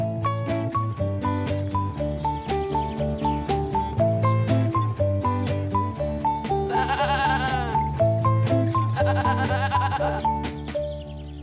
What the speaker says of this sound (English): Let's go meet the gifted goats at the farm